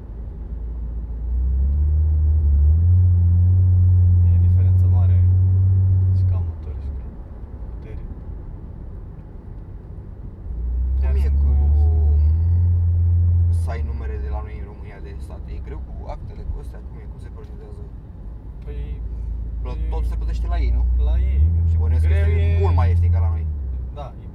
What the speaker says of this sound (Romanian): vorbim de un V6. Să nu imaginăm cum se aude ăla,